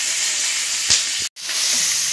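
Bay leaves, lime leaves and lemongrass sautéing in a little cooking oil for Indonesian yellow-spiced chicken give off a steady, close sizzling hiss that drops out briefly near the middle before resuming.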